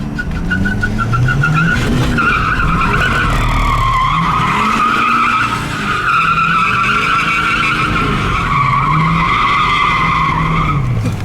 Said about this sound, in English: If you don't walk the diff, just do one wheel donuts.